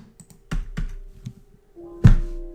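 A few sharp keystrokes on a computer keyboard that seems to be failing, irregular and close, ending in a louder thunk followed by a faint hum.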